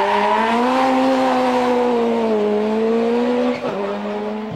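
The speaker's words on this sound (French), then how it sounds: "il teste l'énorme Saab turbo de Perry Klund" Saab turbo rally car of Per Eklund driven hard on asphalt at the 2001 Race of Champions: a loud, close, steady engine roar with slowly shifting pitch and a brief break near the end, like a gear change.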